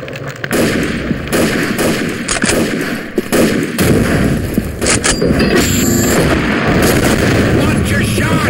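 A grenade blast and rapid gunfire in the shooter game Combat Arms, loud and dense throughout, with booming impacts and bursts of shots layered over shouted game voice lines.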